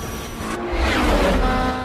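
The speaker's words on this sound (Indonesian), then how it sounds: "Benar saja mobilnya langsung melaju kencang menyusul mobil milik Edwin." A race car surges forward after a nitrous boost in a film scene, its engine rising to a loud, rushing roar that swells over the short stretch.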